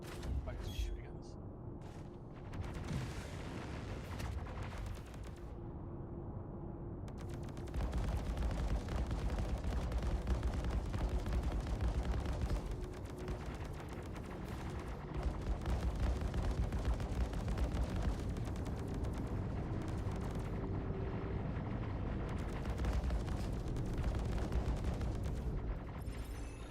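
Ship weapons fire from a Mustang in Star Citizen, a steady dense rumble of gunfire and impacts running throughout under a constant engine drone, with occasional voices over it.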